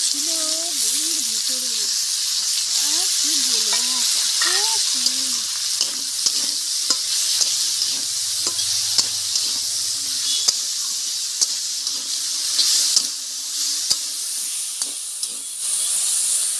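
Drumstick flowers fry briefly in a hot pan, giving a loud, continuous sizzle with scattered stirring clicks, while someone talks over it for much of the time.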